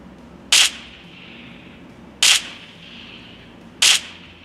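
Three sharp, bright gunshots from the mobile battle-royale game PUBG, evenly spaced about a second and a half apart over a low background hiss.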